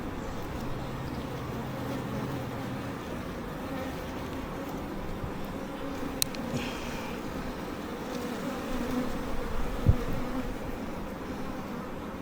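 Honey bees hum in a steady, dense drone around a hive as a queen is released from her cage, the buzzing continuous and fairly close with faint rustling and a brief sharp tap partway through.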